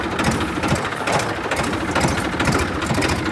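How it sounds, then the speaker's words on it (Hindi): A tractor engine runs steadily at a constant, dense drone with a busy, rattling texture, loud and close, with no talk over it. "आप चलो भाई चलते हैं लेकर ट्रैक्टर।"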